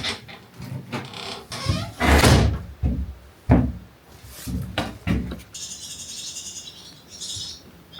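A barn door in a derelict farm building is worked by its handle, giving a series of loud knocks, bangs and rattles spaced irregularly, followed by a quieter stretch with faint high chirping.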